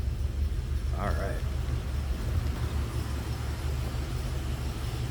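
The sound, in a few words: 1983 Oldsmobile Cutlass Hurst/Olds engine running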